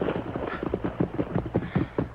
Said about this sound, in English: Bring that horse of yours up the bank.